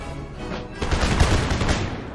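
A line infantry regiment fires a musket volley in Empire: Total War, a ragged crackle of many shots rising together into a dense, loud burst that keeps rattling to the end.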